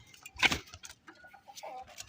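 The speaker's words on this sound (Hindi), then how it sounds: "ये मुर्गी है," A hen on a small fancy poultry farm gives a few short clucks and soft calls, with one louder burst early and quieter chirps following, close by with no talking.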